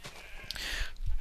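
A sheep in a Minecraft sheep farm gives one short, nasal bleat, close and clear, followed by a few soft low thumps.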